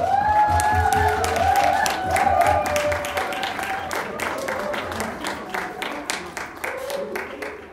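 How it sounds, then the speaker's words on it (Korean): Applause from a church retreat audience welcoming a group's skit, a dense, steady patter of many hands with some cheering, starting under a sustained tone and continuing at a fairly even level. "1조 우리 큰 박수로 모시겠습니다."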